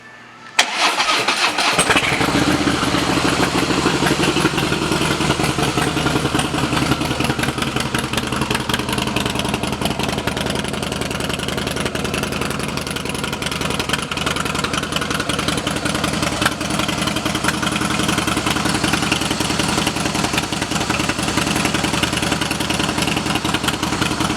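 A 2017 Harley-Davidson Softail Slim S with Vance & Hines exhaust cranks and catches, then settles into a loud, steady rumbling idle close by that continues without letup.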